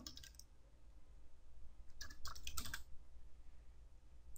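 Short bursts of keyboard typing, a quick flurry of key clicks near the start and a denser cluster in the middle, over a low steady hum.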